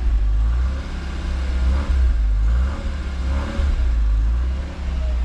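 A Fiat Uno engine runs steadily at close range, a deep continuous rumble with slight rises and dips in revs and no voices over it.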